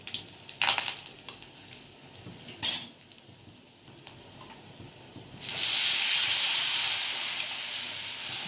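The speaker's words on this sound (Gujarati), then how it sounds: "આ લીમડો, સૂકા મરચાં લીમડો નાખી. આ હિંગ નાખી." A few sharp clinks and bumps come first. Then curry leaves, dried chillies and asafoetida hit hot oil for a Gujarati kadhi tempering, and a sudden loud, close hiss erupts and keeps sizzling to the end.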